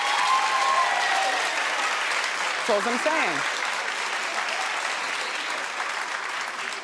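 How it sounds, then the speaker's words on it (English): A studio audience on a daytime talk show bursts into loud, sustained applause that fills the whole stretch, with a single voice briefly speaking over the clapping. "Clap if you think she should get 3 years."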